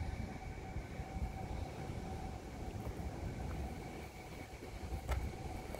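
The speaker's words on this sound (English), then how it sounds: "yes, I can hear the train, but I can also hear a bus" A steady low rumble of a train rolling past at a distance, with faint metallic tones and a slight clatter, no voices.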